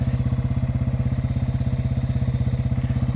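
Engine of a TW200 three-wheeler motorcycle ridden on trails in very low gear, a steady close chugging pulse with an even low rumble throughout.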